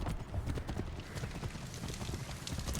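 Horse hooves clip-clopping in Assassin's Creed 3 Remastered, a quick steady trot of repeated thuds on ground, close and fairly quiet, running continuously with no talk over it.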